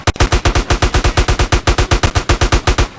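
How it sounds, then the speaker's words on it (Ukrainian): Rapid, steady bursts of automatic gunfire in the video game GTA San Andreas, loud and close, firing continuously in a tight rhythm with no talking. "Бачите, бачите, стріляють, стріляють, стріляють."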